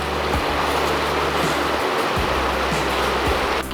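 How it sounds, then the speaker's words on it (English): A small creek rushes beneath a footbridge on a fall hiking trail in the Great Smoky Mountains, its steady broadband roar of flowing water close and continuous throughout, with no talking. "So we come to a little creek crossing here and a bridge."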